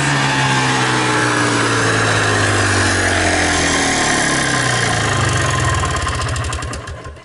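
A motorcycle or small engine runs steadily at idle, loud and close, with a low rumbling pulse and no talk, before the sound cuts and fades away at the end.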